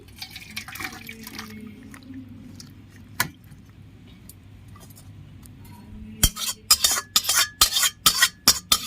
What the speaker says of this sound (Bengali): মাছের ঝোল আমি ঢেলে নিচ্ছি